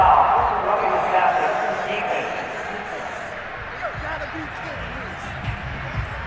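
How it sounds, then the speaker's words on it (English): Crowd roar in an American football video game, a sustained, loud wash of stadium noise that slowly fades after a penalty call during a 2006 Patriots versus 1993 matchup, with no talk. "Well, this crowd does not like that call."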